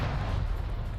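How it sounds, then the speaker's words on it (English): Satchel charge going off in a video game match, a sustained deep low rumble filling the whole moment at steady loudness, no voices. "Explosion."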